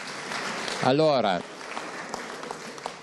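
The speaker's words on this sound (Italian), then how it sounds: "Facciamo un applauso al CAI di Chiavari e tutti questi bellissimi bimbi." An audience claps at an outdoor sports festival event honouring a local alpine club and its children. The applause is a steady, moderately distant patter, with one brief spoken word over it near the start.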